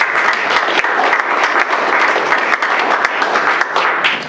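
An audience gives a steady round of applause for a U.S. Navy veteran at a Veterans Day ceremony, dense and continuous clapping close by for several seconds.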